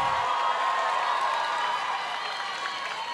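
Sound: audience applause at festival show

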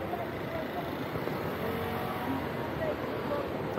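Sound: car driving into the person

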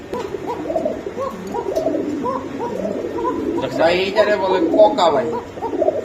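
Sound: pigeons cooing

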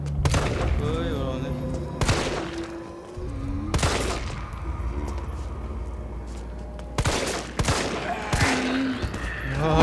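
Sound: gunfire in Resident Evil 3 Remake video game

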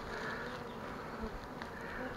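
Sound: honeybees buzzing

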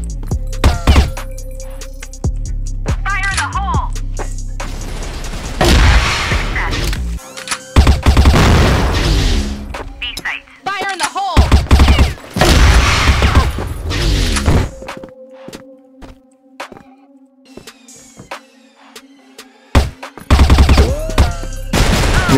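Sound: Cyborg gun firing in video game CrossFire

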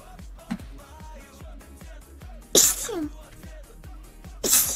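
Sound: sneeze

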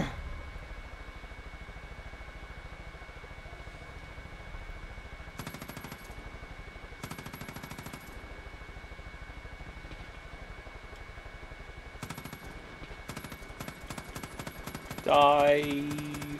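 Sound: gunfire in video game Far Cry 5

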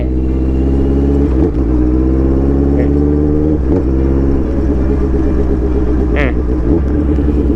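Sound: Honda CBR650R motorcycle engine accelerating through gear change

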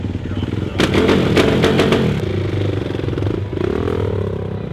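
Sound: motorcycle engine during a freestyle backflip show

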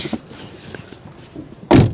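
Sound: door being shut

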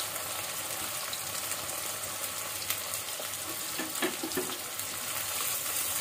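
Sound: finely chopped onions frying in hot oil

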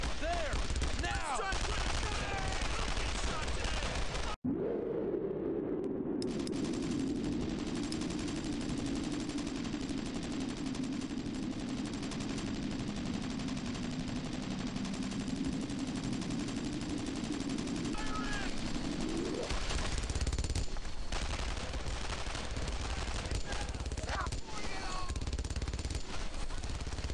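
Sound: gunfire and machine guns in video game Brothers in Arms

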